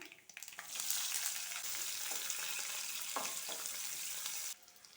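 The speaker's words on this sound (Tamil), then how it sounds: "இது ஒரு நிமிஷம் போல் வதங்கி வரட்டும்" Onion, dried red chillies and curry leaves sauté in hot oil, making a loud, steady sizzle that continues for several seconds and then drops away abruptly, with no voices.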